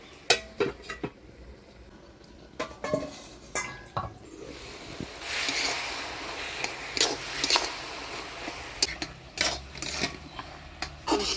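A metal lid set down on a pot of bottle gourd cooking with salt, turmeric and green chilies gives sharp clinks and clatters over a steady low sizzle, close by with no talk.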